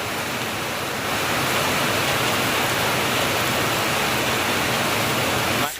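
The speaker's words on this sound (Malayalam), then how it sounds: "ആ നല്ല മഴ കേട്ടോ" Heavy rain pours down in a forest in a steady, dense roar, loud and close, with no let-up.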